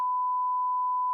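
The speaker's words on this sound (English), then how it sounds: "why did someone just beep in the parking lot?" A single steady electronic car beep in a parking lot, one sustained tone lasting about a second with no voices over it.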